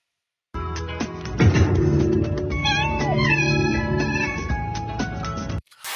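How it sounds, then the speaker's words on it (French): A cat meows several times, drawn-out and wavering, clear and close, with a brief rustle before it cuts off. "la plateforme a fait un poisson d'avril en faisant croire qu'elle avait remplacé le célèbre Tadam par le miaou de Sawyer"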